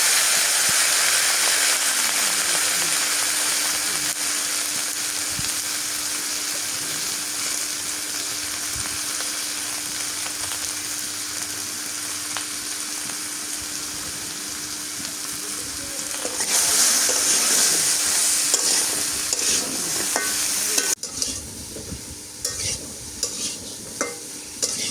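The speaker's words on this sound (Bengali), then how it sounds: "এখন পটলগুলো একটু ভাজা দিই।" Pointed gourd (potol) fries in oil with a loud, continuous sizzle and hiss. Steady stirring and scraping run through it, and the frying flares briefly louder near the end before the stirring turns sparser.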